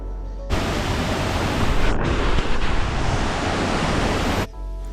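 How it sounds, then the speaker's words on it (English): A hidden waterfall reached on a trek, roaring as a loud, continuous rush of falling water that fills the whole stretch, starting and stopping abruptly. "you better listen to the sound of this waterfall"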